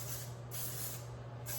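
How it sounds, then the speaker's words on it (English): Hairspray hisses out in short bursts, three soft sprays close by with a brief pause between each. "for me, I usually pop it with a little hairspray."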